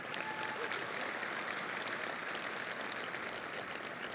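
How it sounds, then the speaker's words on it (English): A luncheon crowd at a Red Raider Club tipoff event applauds the coaches' wives, a soft, distant and even wash of clapping that holds steady throughout. "can we give them a round of applause"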